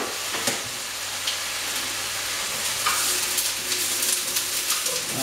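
Garlic frying in a pan with coconut oil, a steady close sizzle with faint stirring clinks and pops throughout, no talking.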